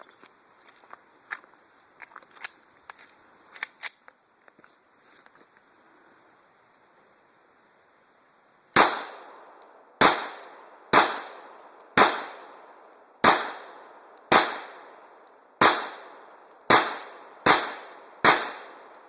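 Ten loud, sharp Smith and Wesson M&P 40 pistol shots fired at targets from medium range, evenly spaced about a second apart after a stretch of faint clicks and handling noise, with no talking.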